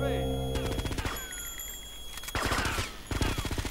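Rapid bursts of gunfire in GTA Vice City, loud clustered volleys of shots in several rattling strings separated by brief pauses, mixed over game music and ambience.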